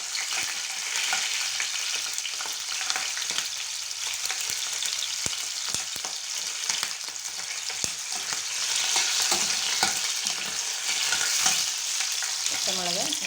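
Slit green chillies frying in hot oil for mulaga pachadi, a continuous close sizzle with occasional crackles and the scrape of stirring in the pan.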